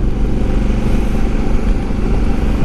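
A motorcycle on a ride toward the Seč quarry in Rudice through dark forest, its engine droning loudly and steadily up close with a constant rumbling roar and wind buffeting throughout, no talking.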